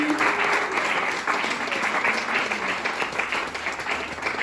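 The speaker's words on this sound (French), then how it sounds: "Gloire à Jésus, on acclame le roi des rois" A church congregation at a Sunday worship service claps and applauds steadily throughout, a dense, sustained wash of hands close and loud, with faint voices mixed in.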